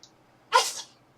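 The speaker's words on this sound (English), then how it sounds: "There's Fluffy sneezing" A pet gives a single sharp, close sneeze, a sudden burst that fades within a fraction of a second in an otherwise quiet room.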